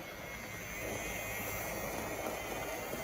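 A 1970s Tri-ang Hornby X0-3/X0-4 model locomotive motor fitted with a homemade carbon brush runs steadily, giving a faint, continuous whirring hum throughout with no voices.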